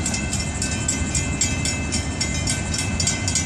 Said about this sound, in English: There goes the EOT, passing me at